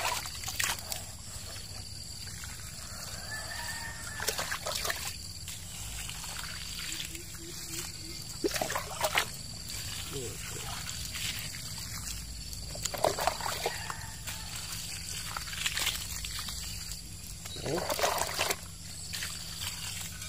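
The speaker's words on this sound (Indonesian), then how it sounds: "Oke, kita siram." Water splashes and trickles in several separate pours onto soil around a newly planted durian seedling set on a raised mound, with quiet pauses and faint outdoor background between the bursts.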